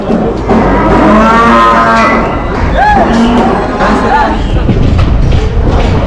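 Cattle moo repeatedly at a livestock market in Havran, Balıkesir, several long drawn-out lows rising over a loud, busy crowd murmur with people talking throughout.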